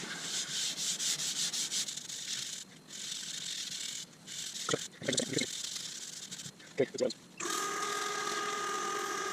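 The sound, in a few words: sanding a wooden bowl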